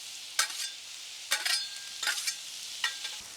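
Pork cooking on a Blackstone griddle, a soft continuous sizzle broken by four crisp scraping strokes of a spatula across the flat top, close up.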